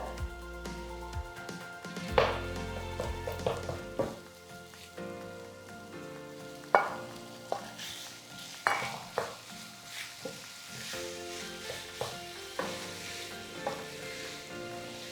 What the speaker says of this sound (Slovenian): Tako, čebulica se počasi praži, tako dodam meso.